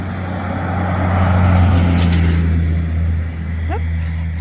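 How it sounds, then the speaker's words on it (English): A vehicle goes past on a main farm road, a broad swelling rumble that builds to a peak and fades over a few seconds, with steady low engine drone throughout. "Yep, passing vehicles. It's what happens when you live by a main farm road."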